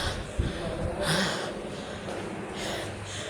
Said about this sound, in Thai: หอบ